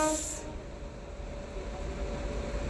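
The Korba-Amritsar Chhattisgarh Express, hauled by a WAP7 electric locomotive, approaches Chhata station as a faint, distant rumble with a low hiss, after a brief high tone fades at the start.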